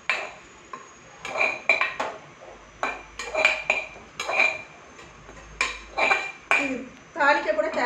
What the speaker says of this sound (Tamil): இப்போ இதை வந்து சட்னியை வந்து இந்த மிக்சி ஜாரில் போட்டுட்டு